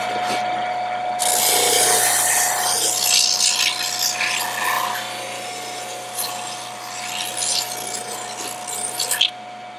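Gritty whir of a power sander grinding along leather edges, strongest at first and then easing into lighter, uneven passes.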